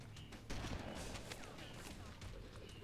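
Gunfire in Halo: Combat Evolved, made up of dense overlapping shots and thuds in a busy, noisy game mix that carries on without a break.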